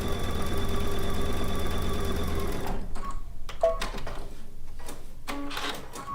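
A sewing machine seams two quilt strips together, its steady loud whirring running for about two and a half seconds before stopping, followed by quieter handling clicks and rustles of fabric.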